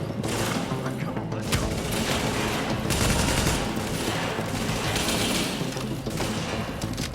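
Sustained automatic gunfire in The Division, dense overlapping bursts and booms rolling nearly nonstop, loud and close, with a voice talking faintly underneath.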